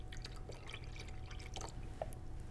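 Water poured into thick homemade vegan BBQ sauce during Thanksgiving cooking, making soft dripping and splashing sounds for a couple of seconds, close up over a steady low kitchen hum.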